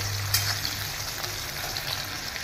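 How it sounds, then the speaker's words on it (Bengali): Vegetables, ridge gourd among them, fry with salt in a pan, a steady close sizzle with a constant low hum underneath and no voices. "একটু একটু করে লবণ দিয়ে ভেজে নিচ্ছি"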